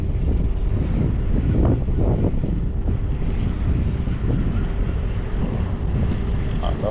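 Strong morning wind at North Pier in Durban, South Africa, blasts across the microphone in a loud, steady low rumble with gusty fluctuations and faint sea noise underneath, continuing throughout.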